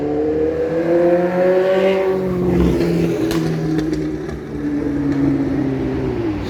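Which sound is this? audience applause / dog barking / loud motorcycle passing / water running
loud motorcycle passing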